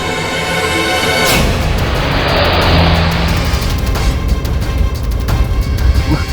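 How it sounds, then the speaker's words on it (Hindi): A car in a tense courtroom-drama scene is driven off to take an injured man to hospital: a loud, steady engine roar with road noise that swells around the second second and holds at close range, with no talking. "वरुण, गाड़ी ला"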